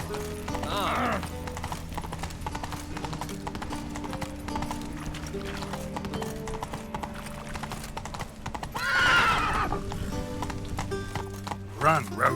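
A horse gallops with rhythmic clip-clopping hooves in The Witcher 3 video game, accompanied by brief neighs and snorts, with game music beneath and a voice speaking.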